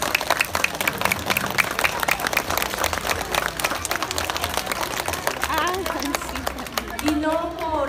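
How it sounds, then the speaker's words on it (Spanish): Crowd applause and clapping at an International Day of Persons with Disabilities parade, steady and dense throughout, with voices and chatter mixed in and a speaker's voice rising near the end. "un aplauso por favor para mis compañeras"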